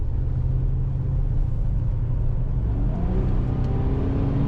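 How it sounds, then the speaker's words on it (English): A 1985 Cadillac Eldorado accelerates around a corner, its engine rising in a steady low rumble as the transmission kicks down, heard loud and continuous from inside the car with no talk. "There's the kick down. Power is as you would expect."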